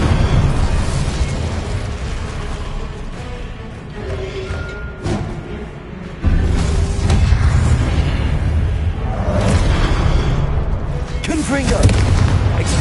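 Confringo blasting spells in the Hogwarts Legacy video game: loud, continuous explosive booms and bursts over rumbling battle noise, with a sharp heavy blast partway through. Voices surface faintly in the din.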